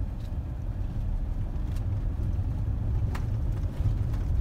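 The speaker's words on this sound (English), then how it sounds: "we're going to drive down this little private trail on the property" A vehicle rolls along a private dirt trail on rural Ozarks acreage, a steady low engine rumble and tire noise filling the clip at moderate level with faint crunches on top, no talk.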